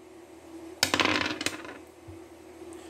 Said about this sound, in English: I don't want that dice roll